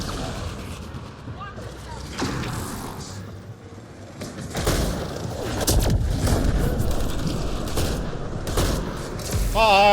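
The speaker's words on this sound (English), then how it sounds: "It's a shotgun shooting slugs" A shotgun fires slugs in the video game Mass Effect Andromeda: repeated heavy booming shots burst out over a dense, noisy combat soundscape, loud and close, with overlapping impacts.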